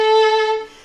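A violin plays one sustained bowed note at the opening of Kreutzer Study No. 4, loud and close, ringing briefly before fading out.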